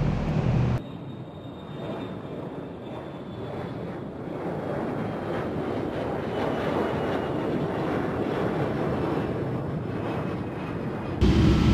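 A British Airways 747-400 airliner in a flight simulator game gives off a steady, broad jet engine rumble and rush that holds evenly for several seconds, framed by brief louder bursts at the start and end.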